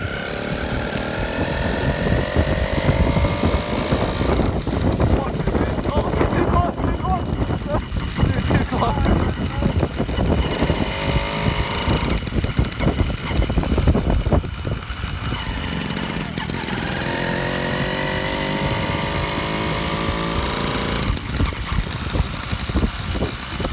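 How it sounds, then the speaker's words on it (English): A small 66cc two-stroke engine on a motorised bicycle towing a trailer buzzes steadily and loudly throughout, its pitch rising and falling with throttle changes, while people talk over it. "now towing it with a 66cc motorised bicycle"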